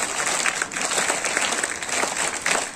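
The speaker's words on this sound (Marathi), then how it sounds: "मुख्याध्यापक सरांसाठी टाळ्या वाजवा." Audience applauding the headmaster, a steady, fairly loud crowd of clapping hands filling the room throughout, with no one speaking.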